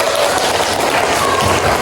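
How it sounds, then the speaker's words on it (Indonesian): A classroom of students applauds the winning group, dense, loud, continuous clapping filling the whole stretch without pause. "Tepuk tangan dulu."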